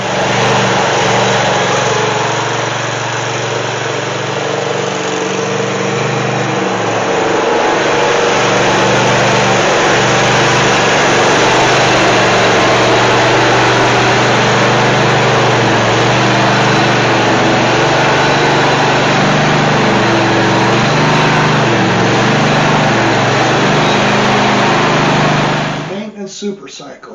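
A Dixon zero-turn friction-drive mower engine runs loud and close for nearly the whole stretch, holding a steady buzzing drone before cutting off abruptly near the end, with a voice speaking over it.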